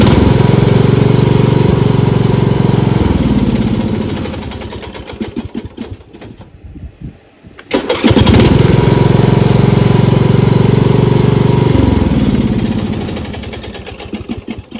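A small engine, just back from carburetor and fuel line repair, starts and runs with a loud steady buzzing idle, dips and sputters briefly midway, then catches and runs strongly again before settling.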